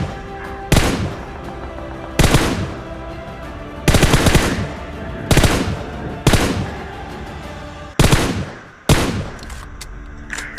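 An M762 rifle fires in PUBG, loud close bursts of automatic gunfire arriving in about seven separate volleys spaced roughly a second and a half apart, each trailing off into a short echo.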